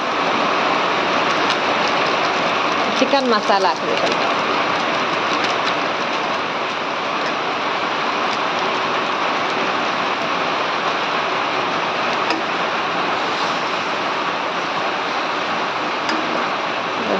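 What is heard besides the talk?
heavy rain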